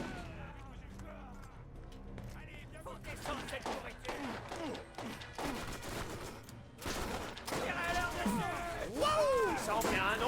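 Rapid bursts of sniper rifle fire and impacts from the video game Borderlands, repeated shots over busy game effects and music, with a player talking throughout.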